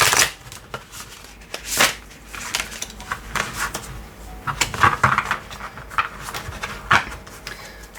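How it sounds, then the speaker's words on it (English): Tarot cards being riffle shuffled by hand, a series of sharp papery bursts and ruffles at irregular intervals, close and fairly quiet, with occasional softer card handling between shuffles. "So let's have a look at how these shuffle. I'm not really a great riffle shuffler"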